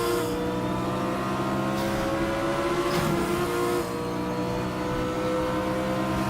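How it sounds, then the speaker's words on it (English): A Mustang GTO race car screams along in Raceroom at Mid Ohio, its loud engine holding a steady high-revving drone throughout, with a brief dip and swell around a shift, close and continuous with no talk. "Really enjoying driving these GTO cars in Raceroom at the moment."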